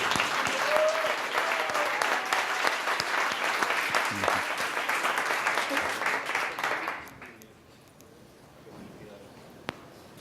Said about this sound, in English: Ayelen, big applause for her.